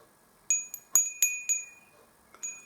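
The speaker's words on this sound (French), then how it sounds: "donc c'est une petite cloche." A small bell rings in several quick, bright dings, close and clear, with a short pause before a final softer ring.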